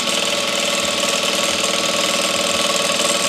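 Sewing machine stitching a double-layered satin and cotton loc sock, a steady continuous mechanical whir with fast regular stitch pulses running the whole time, close and fairly loud with no talking.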